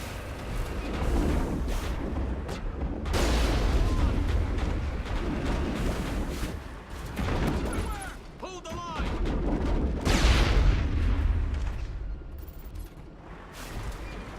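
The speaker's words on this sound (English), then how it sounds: "they can take a Mako cannon shot to the face and survive" Heavy cannon shots from the Mako vehicle in Mass Effect 1 boom repeatedly as loud, deep blasts with rumbling tails, broken by brief quieter gaps and mechanical game effects, while a voice speaks over parts.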